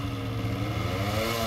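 Motorcycle riding past near a stuck car on a muddy track, its engine a close, steady, rumbling drone with a rough clattering edge, revving evenly for the short span.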